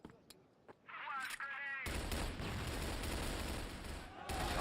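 Gunfire in the video game CrossFire erupts as dense, rapid bursts of automatic shots, loud and sustained after a brief quieter lead-in with some clicks and electronic tones.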